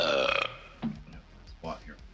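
A person burps loudly and drawn-out, followed by softer throat sounds, close up indoors.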